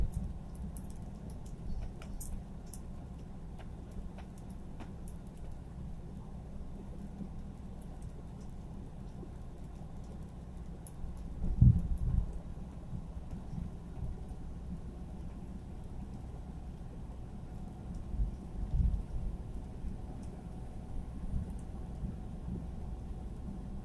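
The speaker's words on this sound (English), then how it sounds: "More rain, rain, rain." Steady, fairly quiet rain patters on a truck throughout, with a couple of brief louder thumps partway through.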